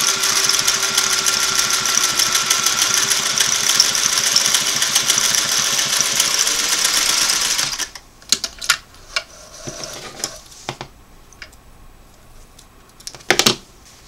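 A Singer Model 503A twin-needle sewing machine runs a fine straight stitch with a fast, even mechanical whir for about eight seconds, then stops, followed by a few clicks and handling knocks.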